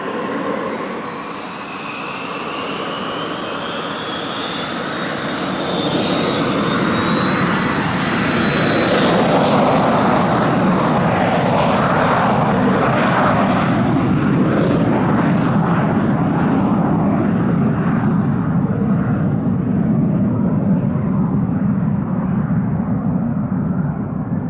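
A general aviation airplane takes off from runway 26 left at Spirit of St. Louis Airport, its loud engine roar rising and building steadily, then sustained and close with a climbing whine, no talk over it.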